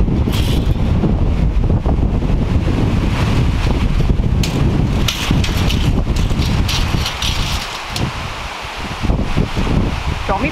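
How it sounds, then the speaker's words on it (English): Strong gusty wind at an outdoor post-and-beam building site, roaring and buffeting loudly against the microphone without a break, with leaves rustling and occasional lulls near the end. "Windiest day, and we're doing this."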